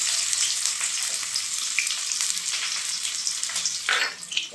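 Chopped onions drop into hot oil with nigella seeds and dried chili, giving a loud, continuous sizzle with crackling bursts and a sharp flare of hissing near the end.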